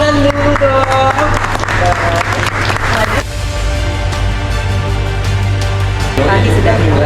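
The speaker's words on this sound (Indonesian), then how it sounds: "tepuk tangan dulu dong" Applause rises from a press conference audience and carries under spoken voices and music for the first few seconds, then thins into a quieter steady patter before building again near the end.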